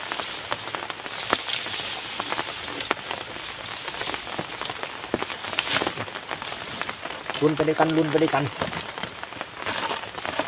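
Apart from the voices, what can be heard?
heavy rain falling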